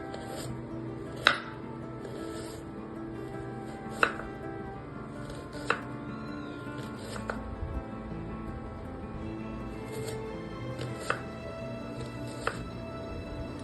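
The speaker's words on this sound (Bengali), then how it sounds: "পেঁয়াজটা ভালোভাবে চপ করে নেব।" A knife chops onion on a board in a home kitchen, giving sharp, spaced knocks, roughly a dozen at irregular intervals, over a quiet steady background with no talk.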